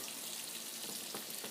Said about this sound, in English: get a good shot of that frying up, Megan.